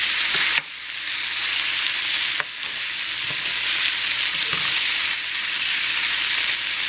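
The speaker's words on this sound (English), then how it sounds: "you just want to keep stirring so that the onions do not stick to the bottom" Onions frying and browning in a pan for chicken bog, a loud, continuous hiss of sizzling fat with occasional soft knocks and scrapes from stirring, close by, no speech.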